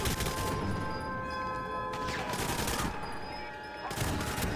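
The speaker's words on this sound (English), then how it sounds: "I'm being shot at from somewhere." Bursts of gunfire ring out in GoldenEye 007 on Wii, rapid overlapping shots in a dense, continuous exchange with a brief lull midway, fairly loud against a busy game soundscape.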